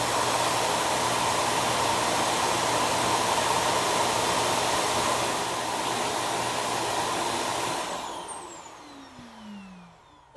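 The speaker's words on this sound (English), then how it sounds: "when it does, it starts that auto empty process, which actually moves everything that it picked up into the dust bag in the station" ECOVACS DEEBOT N8 PRO+ auto-empty station sucking debris from the robot vacuum into its dust bag: a loud, steady roaring whoosh with a low hum that holds for about eight seconds, then winds down and falls away.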